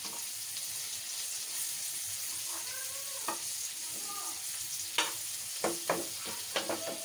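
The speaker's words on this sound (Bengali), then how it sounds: "পেঁয়াজগুলো দিয়ে দিছি, এখন পেঁয়াজ হইতেছে" Onions fry with potatoes in a pan, making a soft, steady sizzle with occasional sharp clinks and scrapes of utensils toward the end.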